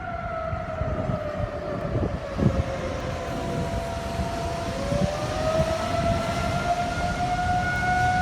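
Civil defense sirens wailing across the Monroe area of Grand Rapids, a long steady rising and falling tone that carries loud and continuous, with faint broadband background noise beneath it.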